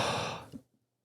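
A voice imitates a prank caller's heavy breathing with one long, breathy exhale that fades quickly into silence.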